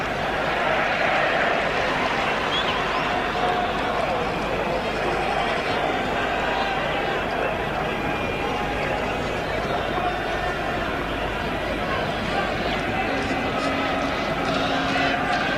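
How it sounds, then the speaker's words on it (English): A subdued football stadium crowd at Borussia Mönchengladbach versus Liverpool FC, a steady low murmur and hiss of many distant voices throughout, with a commentator's voice over it. "Crowd quiet. The atmosphere rather tense."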